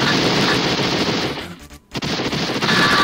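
Dense gunfire and blasts from grenades an enemy keeps tossing in the SNES/3DO game Demolition Man, loud and continuous with a brief drop near the middle before the barrage resumes.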